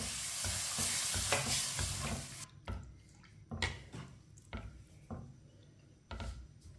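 A spoon stirs vermicelli in a pan with a kilo of milk, producing wet scraping and sloshing strokes at an uneven pace, close and fairly quiet, with a soft sizzle early on.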